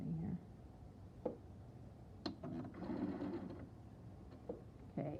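A sewing machine stitches slowly through fabric along a marked line while quilting a block, its whirring coming in short bursts and one longer run with pauses between, close and moderately quiet.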